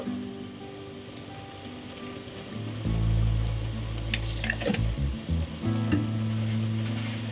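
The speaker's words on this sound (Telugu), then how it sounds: "ఉల్లిపాయలు బ్రౌన్ కలర్లో వచ్చేదాకా ఫ్రై చేసుకుందామండి" Onions frying in a pan, a close, continuous sizzle that grows louder midway, with occasional scraping and stirring sounds over the crackle.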